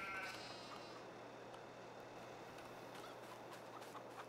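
Sheep bleating in the Farming Simulator 22 video game, a few soft calls over a steady low hum of game ambience, with no speech.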